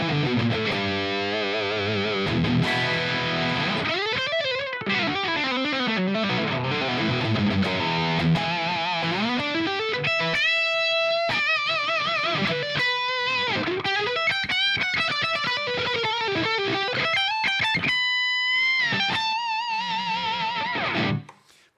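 Electric guitar played through a Line 6 Helix processor on a firmware 3.5 preset, a distorted effected tone carrying sustained chords, bends and melodic runs for about twenty seconds, loud and steady, then cut off abruptly at the end.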